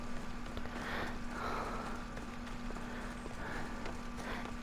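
Horse hooves clip-clop at a steady walking pace in an Ancient Greece setting of the Assassin's Creed video game, quiet and continuous over a constant background hum.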